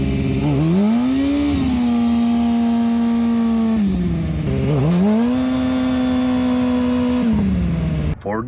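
A motorcycle engine revs hard during a burnout, with the clutch released and the throttle opened while the front brake is held. The engine climbs and holds a high, steady pitch twice in a row, close and loud, with no talk over it.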